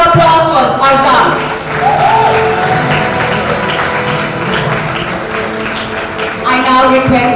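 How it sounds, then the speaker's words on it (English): An audience at a school valedictory ceremony applauds with a broad wash of clapping and some crowd noise, while voices and tonal sounds carry through the mix. "Let's give a round of applause to Arzan."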